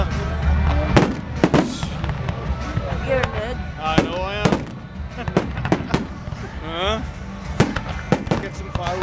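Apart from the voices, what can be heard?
fireworks going off on Halloween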